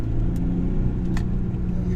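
A big, fast car accelerates along a winding zig-zag road between Konia and Chlorakas, its engine a steady, close, loud rumble throughout.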